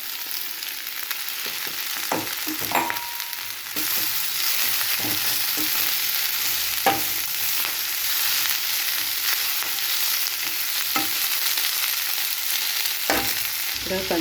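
Spinach and coriander leaves frying in a pan, a steady close sizzle with occasional stirring scrapes and clicks throughout, no voices.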